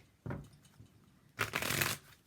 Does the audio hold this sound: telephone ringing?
no